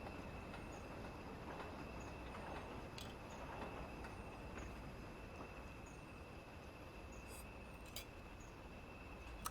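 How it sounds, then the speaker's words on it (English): A passing early British Rail diesel locomotive train gives a steady rumbling roar with faint squeals and clicks, heard at low level from some distance. "One of the more ubiquitous, I think is the word, early BR diesel locomotives."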